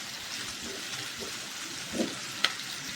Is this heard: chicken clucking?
no